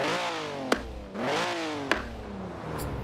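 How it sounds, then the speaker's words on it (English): Austin-Healey 3000 Mk III engine revving up and down in Forza Horizon 4, with rising and falling harmonic sweeps and two sharp exhaust crackle pops between revs, loud and close with no talking. "The crackle sounds so good actually."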